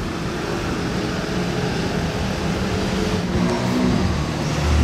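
A Maybach GLS 650 drives past with a steady, fairly loud engine rumble that swells slightly toward the end, heard amid continuous traffic noise with no talking.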